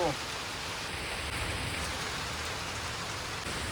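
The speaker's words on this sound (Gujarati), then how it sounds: "તો ગાઈ વરસાદ ચાલુ થઈ ગયો" Rain falls in a steady, even hiss outdoors during a village storm, constant and moderately loud throughout.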